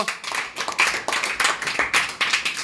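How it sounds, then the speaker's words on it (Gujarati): Sharp, rapid hand claps burst out in an irregular run of roughly a dozen strikes to cheer on a player during an indoor balloon-and-cup party game, close and bright with no talk. "ચલો ખેલાડીનો ઉત્સાહ વધારવા માટે જોરદાર તાળીઓ"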